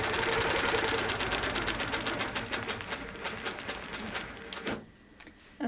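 A sewing machine stitches a quilt in steady, fast mechanical bursts, running continuously close by before slowing and stopping near the end, with no talking.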